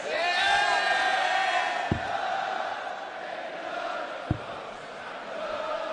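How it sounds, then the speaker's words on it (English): Darts crowd at a Players Championship match cheering and shouting in a sustained wash, with sharp dart thuds landing twice, the noise easing gradually over the few seconds. "Crowd trying to rouse everybody."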